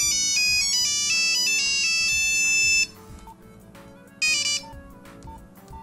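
A Nokia 3330 mobile phone plays one of its famous built-in monophonic ringtones, a bright, fast beeping melody heard up close. It stops abruptly partway through and comes back for one short burst, with no talking.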